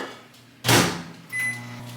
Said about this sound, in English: I absolutely hate my melt butter setting on my microwave